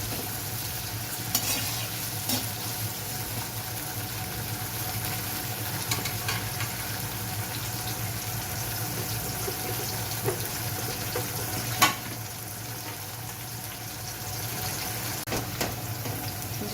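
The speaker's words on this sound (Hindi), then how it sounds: "ये हमारा प्याज और मिर्चें फ्राई हो गई हैं" Onion and green chillies frying in hot oil for a chicken karahi, a steady low sizzle with occasional stirring clinks and small pops throughout, no talking.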